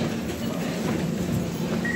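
Steady train rumble with a low hum and faint rattling inside a carriage arriving at Heathrow Terminals 2 and 3. A thin high whine comes in near the end.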